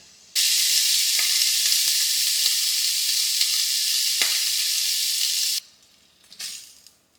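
Food dropped cut side down into a hot skillet erupts into a loud, sustained sizzle that holds steady for about five seconds, then cuts out abruptly to quiet with a brief clatter.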